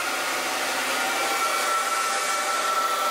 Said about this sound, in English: Where is the nozzle on the blow dryer?